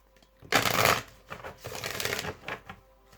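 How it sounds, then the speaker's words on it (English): Tarot cards are shuffled in several quick riffling bursts, close and fairly soft, with short pauses between them and no talk. "Do a bit of a shuffle."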